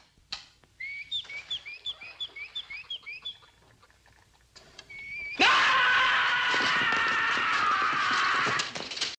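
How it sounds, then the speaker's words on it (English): A nightingale in a Batman episode sings a run of bright, repeated whistling phrases, then a loud, sustained, harsh noise takes over for the last few seconds. "All I hear is a nightingale."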